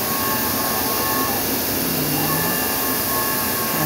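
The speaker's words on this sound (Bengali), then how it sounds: "এই কম্পিউটার দিয়ে আমরা এই মেশিন চালাই। তারপরে দেখতে পাবেন এখন প্রিন্ট করছি" A computerized UV printing machine runs while printing paper boxes, a loud steady mechanical whir and hiss filling the space continuously, with faint tonal whines shifting in the background.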